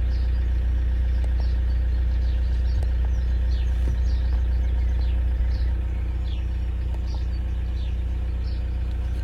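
A 2005 Toyota RAV4 D4D diesel engine idles at a steady, unchanging pace, a loud constant low rumble close by with faint ticks, no revving and no voices.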